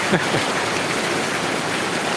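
Heavy rain pours steadily as a dense, loud, continuous hiss with no breaks, and no voices are heard.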